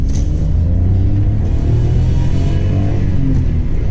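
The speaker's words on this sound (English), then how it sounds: "That little 3-cylinder engine." A 2005–2014 Citroën C1's little three-cylinder engine drives along a B-road, giving a steady, loud, close engine rumble with a low drone and road noise throughout, no voices.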